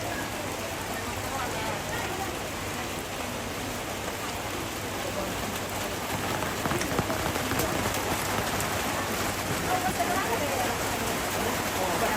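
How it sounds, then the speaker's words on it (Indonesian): Rain falls steadily on surfaces outdoors, a dense even patter of drops that stays constant and moderately loud throughout. "Hujan guys ya, hujan"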